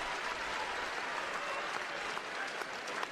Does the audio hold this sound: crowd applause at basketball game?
yes